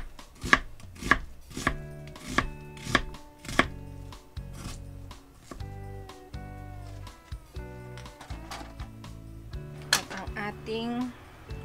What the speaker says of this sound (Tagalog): Iwain naman natin ang ating sibuyas.